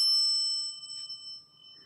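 A single ding from an Adams elevator bell, its clear metallic tones held steady and slowly fading, with one light extra tap near the middle and nothing else around it.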